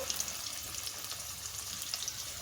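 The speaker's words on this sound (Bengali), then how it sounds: "এখন মাটনের আলুগুলো ভাজা করছি" Potatoes for mutton curry fry in hot oil, giving a continuous faint sizzling hiss with small crackles and no talking.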